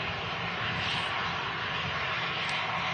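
Turkish Airlines jet crossing the runway at Manchester Airport, a continuous broad engine roar heard from a distance, steady and fairly loud, with no talk.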